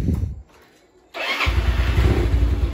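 A 2017 motorcycle's electric starter cranks briefly after a quiet pause, then the engine catches into a loud, close, steady idle with a low throbbing rumble and no voices.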